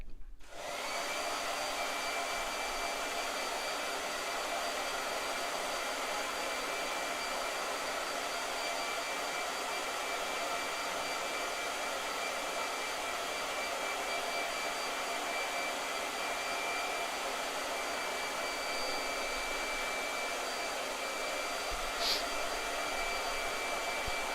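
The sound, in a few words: blow dryer running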